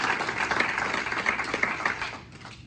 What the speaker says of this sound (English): So please give a round of applause for Brady.